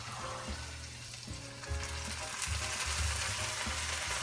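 Bean juice hits a hot pan already holding Southwest seasoning, setting off a loud, steady sizzle with occasional stirring scrapes, close up and with no talking.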